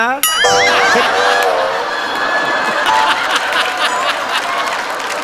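Loud audience applause and laughter fill a comedy sketch stage, steady clapping mixed with crowd chatter and chuckles, while voices speak over it.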